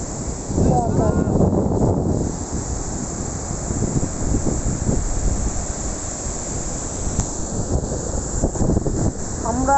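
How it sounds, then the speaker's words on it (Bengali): Wind and surf on the sea beach at Kuakata roar in a constant broad rush, buffeting the microphone, with a voice briefly heard near the start. "সমুদ্র সৈকত"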